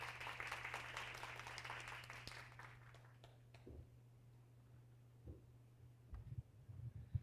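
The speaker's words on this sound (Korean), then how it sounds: "큰 박수로 맞아주시길 바랍니다." Applause from attendees at a gerontology symposium hall fades out over a few seconds, leaving a steady low electrical hum and a few scattered thumps and shuffles as the room quiets.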